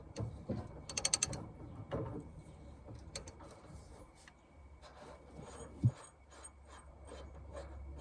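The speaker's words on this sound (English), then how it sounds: "now we're going to finish taking the main nut off." A ratchet wrench clicks in a fast, close burst of pawl ticks as the main nut comes off a pitman arm on a Lincoln Town Car or Grand Marquis, then scattered clicks and metallic handling noises over a steady low background hum.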